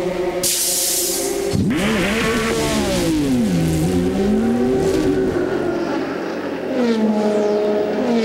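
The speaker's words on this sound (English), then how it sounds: "I showed up just as Jorg Bergmeister was pulling away there." A Porsche race car pulls away from a pit stop during the 12 Hours of Sebring endurance race, its engine note rising and sweeping through the gears, loud and close, with steady track noise all around.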